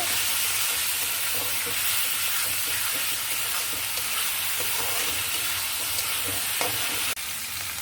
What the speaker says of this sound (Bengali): এই যে আলুটাকে আমি কষিয়ে নিচ্ছি কষানোর সঙ্গে আরেকটু দিয়ে দিব লবণ